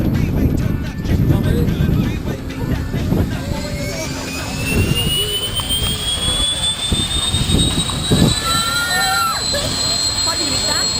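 Aircraft engine of a skydiving plane at a São Paulo parachuting center, a steady loud drone with rising whine running throughout, with voices talking over it.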